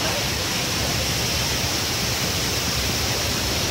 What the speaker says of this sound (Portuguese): Eu estou aqui na Cachoeira do Abade.